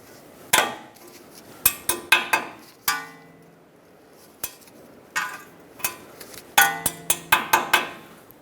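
Sharp metallic taps of a hammer bending over a cotter pin on the passenger-side outer tie rod of a Ford E-350, a dozen or so close blows in irregular bursts with short ringing decays.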